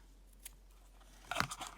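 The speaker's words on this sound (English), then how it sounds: "I need to sharpen my scissors." Scissors snip through a length of ribbon while a layered winged bow is being made: a faint click, then a louder, slightly crunchy cut near the end, close and quiet.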